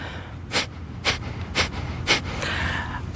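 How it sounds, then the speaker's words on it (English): Breath of fire in a kriya yoga class: rapid, forceful panting exhalations through the nose, four sharp evenly spaced puffs close to the microphone followed by softer breathing. "Breath of fire is actually just the same thing as panting, but just through the nose."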